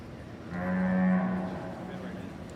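A single bull lows once at a national bull show, a loud, close, sustained moo of about a second with a steady tone, rising and then fading over a quiet arena background.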